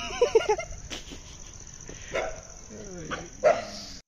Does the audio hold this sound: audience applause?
no